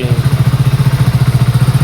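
A motorcycle engine just started, idling close by with a fast, even, throbbing putter that holds steady from start to finish.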